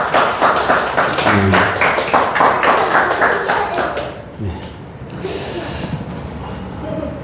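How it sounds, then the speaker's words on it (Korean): Sunday worship congregation at a Baptist church claps in a quick burst of loud, rhythmic hand claps, then the clapping fades and mixes with murmuring voices and light shuffling. "박수"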